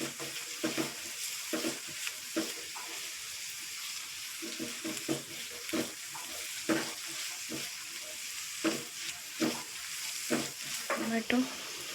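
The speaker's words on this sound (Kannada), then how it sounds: "ಬೀನ್ಸ್ ಫ್ರೈ ಮಾಡ್ಕೊಳ್ಳಿ ಒಂದು 5 ಮಿನಿಟ್ಸ್." Green beans frying in a pan for Indian-style pasta, a constant sizzle with repeated clacks and scrapes of a spatula stirring at close range.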